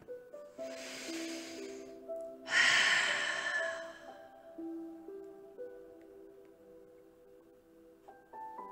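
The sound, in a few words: deep breathing during a breathing-muscle stretching exercise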